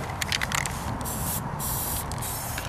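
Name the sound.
spraying into a potato gun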